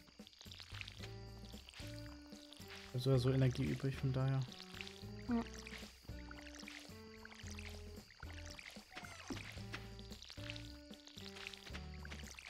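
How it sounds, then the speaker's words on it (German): In Stardew Valley, crops are watered with a watering can: soft, repeated splashy pours recur under the game's tinkling background music while a person talks over them. "Dann gieße ich ihm alles fix."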